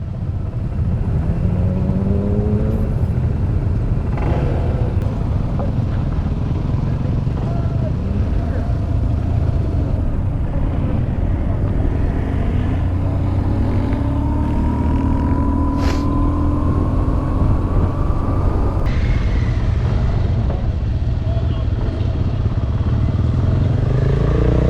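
A motorcycle ridden on an adventure-bike trail event, its engine revving unevenly with rising and falling pitch as the clutch is slipped, loud and close throughout with a voice talking over it.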